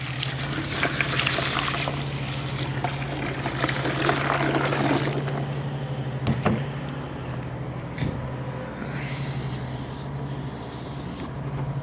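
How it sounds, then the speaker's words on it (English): Water pours and splashes into a pot over a low steady hum, with a couple of clunks and a quieter trickle toward the end. "pour the water on"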